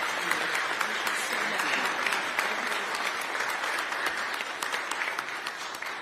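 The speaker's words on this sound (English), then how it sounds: "Give him a huge round of applause." A crowd applauds steadily throughout, a dense patter of many hands clapping at moderate volume with no pause.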